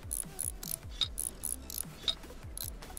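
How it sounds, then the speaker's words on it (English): Ratcheting screws and bolts being fastened on a train in Train Mechanic Simulator 2017, a quick run of mechanical clicks and ratchet strokes repeating steadily, close and moderately loud, with no voices. "We'll screw those in and bolt them in."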